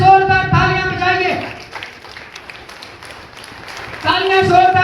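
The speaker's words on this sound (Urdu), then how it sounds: "اس کی قدرت کے لیے پہلے زوردار تالیاں بجائیے" A church congregation claps in a dense patter between bursts of a preacher's amplified voice; the clapping comes through most clearly in the quieter middle stretch and stays moderate rather than loud.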